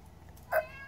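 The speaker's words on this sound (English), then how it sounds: "The cats are going crazy." A house cat lets out a single short, fairly loud meow midway through an otherwise quiet stretch.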